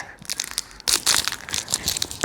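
A Munch chocolate wrapper being torn open, short crinkling and crackling bursts of plastic packaging up close, ending in a sharper rip.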